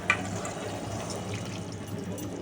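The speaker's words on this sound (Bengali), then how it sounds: "এবার আমি মাছগুলো সব ঢেলে দেবো।" Parshe fish tipped into a pot of simmering, thickened curry gravy, giving a steady wet bubbling and splashing that runs alone throughout, with a brief louder plop right at the start.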